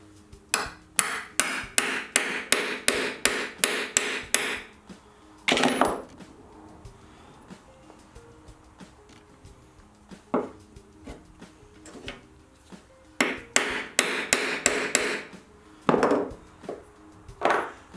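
Rapid bursts of hammer taps drive a lathe drive spur into a wooden blank in a workshop, sharp close knocks in quick runs separated by pauses and a few single strikes.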